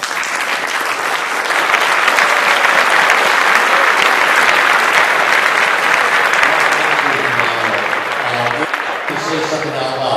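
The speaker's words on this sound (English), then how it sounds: "Let's give her a round of applause." A large audience at an evening talk breaks into sustained, loud applause lasting about ten seconds, steady and dense throughout, with a few voices rising beneath it toward the end.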